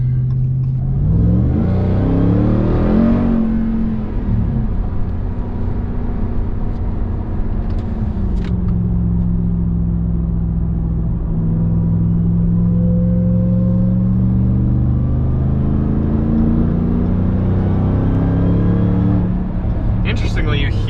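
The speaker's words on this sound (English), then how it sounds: "But it's pleasant hearing that supercharger whine." Heard from inside the cabin, a 2021 Ram TRX on the highway gives a supercharged engine drone with rising and falling whine as it accelerates and cruises, under steady road rumble, with occasional talk from the driver.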